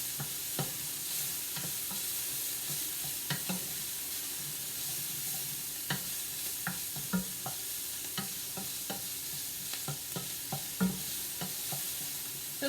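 Onions and peppers fry in a Dutch oven under a steady, soft sizzle, with frequent stirring producing repeated light scrapes and knocks throughout.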